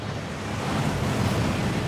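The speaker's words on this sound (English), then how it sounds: "That waterfall washes away all enchantments" Broad steady rush of a waterfall inside the Gringotts vaults in the Hogwarts Legacy video game, a dense continuous roar of falling water filling the space evenly, with no voices over it.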